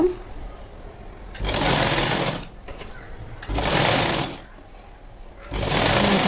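A sewing machine stitches a plain blouse in three loud, sustained bursts of about a second or more each, with quieter pauses between runs.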